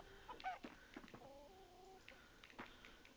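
A chicken in the Fae Farm video game clucks softly in a short run of quick, chattering notes followed by a few drawn-out tones, faint and alone.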